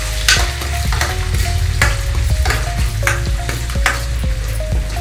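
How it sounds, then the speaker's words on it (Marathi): Onion and tomato masala paste for chole sautés in a pan, sizzling steadily with a spoon scraping and stirring in regular strokes, close and loud, with no voices. "2 ते 3 मिनिटं आपण आता छान परतून घेऊया।"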